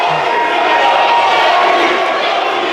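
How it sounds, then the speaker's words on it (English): A chorus of sports fans chanting in an indoor hallway, a dense, loud, echoing crowd roar of many voices blended together with no single speaker standing out. "They're literally just like chanting in the hallways."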